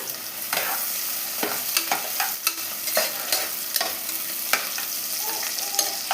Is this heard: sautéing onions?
yes